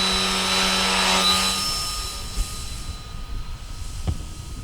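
Electric motor of an RC balsa Baron model plane whining steadily at about half power while held in the hand, then fading as the plane is released and flies away.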